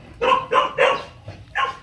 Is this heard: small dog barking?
yes